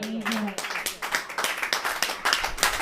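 Brief burst of church congregation clapping mixed with a speaking voice, fairly loud and close, with crowd noise throughout.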